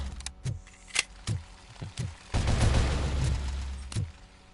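Sporadic sharp gunshots crack during a siege in a video game, single reports spaced irregularly, then a burst of rapid fire with a low rumble, fairly close and alone without talk.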